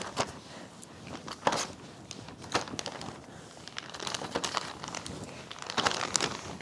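Thin plastic bag crinkling and rustling as frozen whipped cream cubes are packed into it, a steady close-up stream of crackly crumples with a few sharper bursts, no voices.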